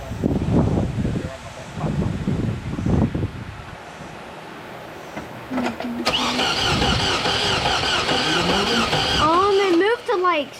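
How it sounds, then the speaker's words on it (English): A vehicle engine being cranked over during diagnosis of a no-start: steady mid-pitched cranking drones through the second half, following spoken voices, with wind noise on the microphone. "So we're gonna turn the motor, we're gonna see if it'll move."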